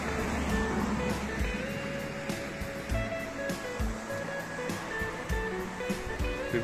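River flowing beside a camper-van stopover in Charmes, a steady rushing wash of water heard fairly close, with some low rumbling and faint tonal background noise, no talking.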